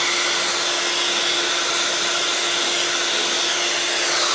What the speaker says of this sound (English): We're blow drying a wig right now.